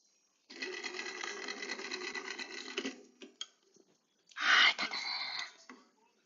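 A sewing machine stitches through fabric in two bursts, a steady rapid whirring run of about two and a half seconds, a short pause with faint clicks, then a louder second run, close and alone.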